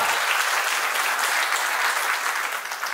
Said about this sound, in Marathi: तर जोरदार टाळ्या वाजवा